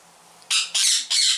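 Parrots in an aviary in Thailand give three loud, harsh squawks in quick succession. The calls are close and sound alone, with no talk.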